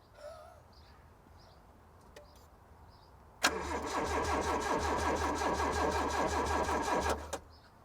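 A barn-find 1980s supercharged manual Toyota MR2 cranks on its starter, a loud, steady mechanical whirring churn that runs for about four seconds after some quiet shuffling, then cuts off abruptly.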